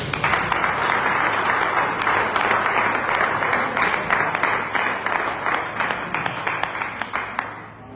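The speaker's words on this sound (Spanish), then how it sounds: "por si vamos a un fuerte aplauso" A church audience gives a loud, sustained round of applause welcoming a local pastor, dense clapping filling the whole stretch and thinning slightly toward the end.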